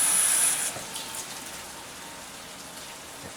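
Water poured into a measuring cup while mixing a batter, a steady splashing trickle that is loudest at the start and then settles into a quieter continuous pour.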